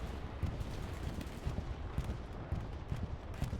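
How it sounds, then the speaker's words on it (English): Distant rumbling bombing run in a World War II video game match on the Carentan map, a steady dull roar broken by scattered muffled booms and gunfire. "That looks to be Esprit's bombing run coming across the back side here"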